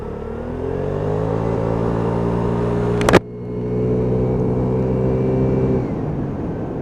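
A Piaggio Vespa PX125 scooter engine revs up and pulls steadily on a crisp day's ride, a close, continuous buzzing drone with one sharp click midway.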